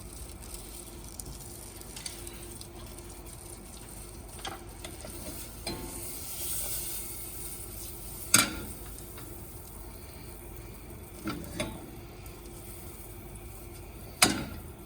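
Butter sizzling in a pot over medium heat: a soft, steady crackle at low volume, broken by a few sharp clicks and pops.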